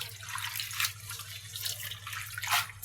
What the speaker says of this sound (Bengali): আজকে এখন আমি লাল শাক ধুয়ে পরিষ্কার করে দেবো